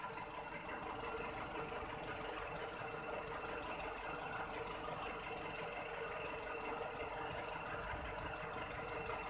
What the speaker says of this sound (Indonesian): sekarang idle mesin jadi lebih anteng seperti ini.